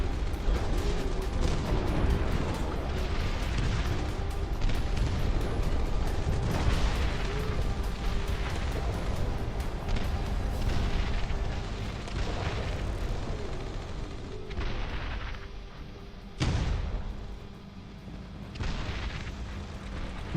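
Howitzer artillery fire in the Dust Front RTS strategy game rumbles as a dense, continuous wall of booms and explosions, loud throughout, with a sharp blast near the end.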